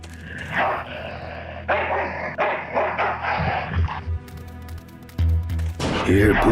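A dog barks in the Full Throttle Remastered video game: a few short barks mixed into busy game sound and music, fairly close and loud.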